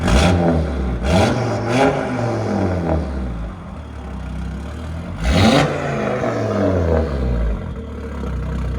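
A 2018 Audi RS3 with its 2.5-litre turbocharged five-cylinder, downpipes and AWE Switchpath cat-back exhaust revs repeatedly, loud and close, each blip rising and falling in pitch with brief pauses between.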